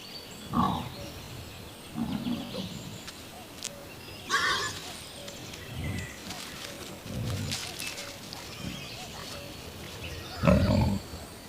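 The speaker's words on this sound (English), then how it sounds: "the wolf is woken by the sound of mushroom-digging boar" A herd of wild boar digging for mushrooms, grunting in a series of short, low bursts spaced a second or two apart, some close and louder, over a quiet woodland background.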